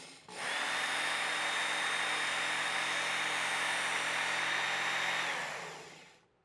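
A Work Sharp Ken Onion Edition belt knife sharpener whirs up, then grinds steadily against a blade for about five seconds at close range before spinning down, with no talk.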